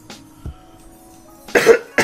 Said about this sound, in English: Sorry for all my coughing, guys, by the way.